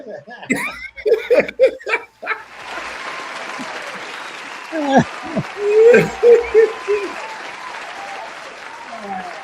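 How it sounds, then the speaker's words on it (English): A studio audience on a breakfast talk show claps steadily after voices and laughter, with speech and chuckles continuing over the applause. "give them a round of applause"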